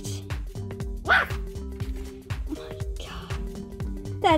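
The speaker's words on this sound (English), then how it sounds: "That's a live dog." A dog barks in a rapid series of short yips and bow-wows over steady background music, with people talking throughout.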